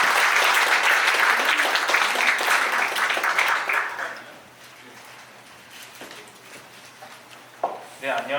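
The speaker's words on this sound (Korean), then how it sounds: "여러분 큰 박수 부탁드릴게요." Loud audience applause at a startup lecture fills the first four seconds, then fades to scattered claps and room noise before a few brief sounds near the end.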